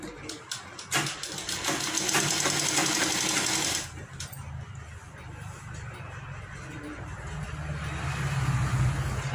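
A sewing machine runs continuously while stitching a half collar onto a kurti, a steady fast mechanical whirr that eases slightly partway through before carrying on.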